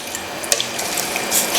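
Water runs steadily into a pot of Beijing-style hot and sour soup, a continuous splashing pour with small drips, close and alone with no talking.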